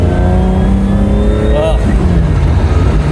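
A Ferrari 365 GTC/4 four-cam engine runs and revs up briefly, rumbling loudly and close, while someone talks over it.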